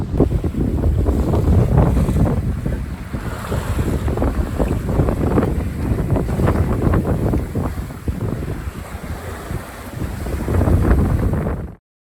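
Aboard a Contessa 32 sailboat on the open ocean between the UK and the Azores, strong wind buffets the microphone while big waves rush and crash against the hull in a continuous loud roar.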